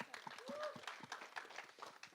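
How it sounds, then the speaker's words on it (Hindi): An audience at a film trailer launch event claps in a scattered burst of applause, faint and somewhat distant, with voices mixed in. "एक बार इनके लिए जोरदार तालियां हो जाए"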